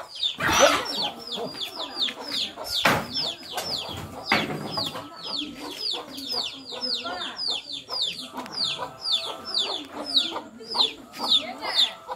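Chickens in a coop where a cobra has got in, clucking and calling repeatedly and agitatedly throughout, with a few loud sharp thumps and human voices mixed in.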